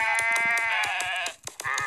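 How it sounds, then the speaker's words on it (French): Sheep in a video game, a sandbox world where a map is filled with sheep and wolves are added later, bleat in a steady overlapping chorus of repeated calls, near and loud, with only a brief dip toward the end. "Donc ça, c'est les fameux moutons."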